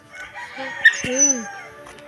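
A rooster crows nearby, its drawn-out call rising and falling over a noisy background with other birds faintly audible.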